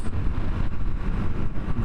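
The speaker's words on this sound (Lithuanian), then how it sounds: "Net ir variklio garsas visai malonus." A steady low CFMOTO 250 Dual motorcycle engine rumble runs throughout with some wind noise, close and continuous, no talking.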